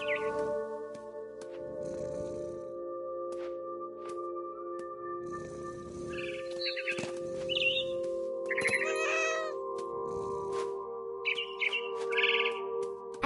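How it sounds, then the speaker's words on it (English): Bird chirps in the video game What Remains of Edith Finch, high twittering calls scattered over a steady ambient music drone, with soft rustling bursts recurring in the background. "All I cared about was eating that mama bird."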